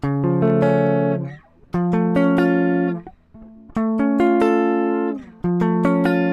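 Electric guitar chords strummed one at a time, each ringing out and fading before the next. Five or so chords, clean and close, with no voices.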